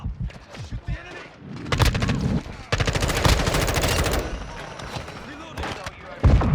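Rapid bursts of automatic gunfire with dense, sustained volleys and sharp individual shots in the shooter game Call of Duty: Modern Warfare II, loud and close, with brief game voice lines around the shooting.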